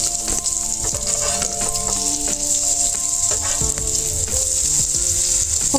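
Pumpkin flower fritters bubbling in hot oil with a dense, continuous sizzle, joined by scattered clicks and scrapes as they are turned over.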